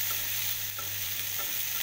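Onions and green chilies frying in oil, giving a steady, dense sizzle that stays loud and unbroken throughout, with a couple of faint stirring knocks and no voices.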